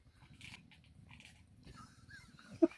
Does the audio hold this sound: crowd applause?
no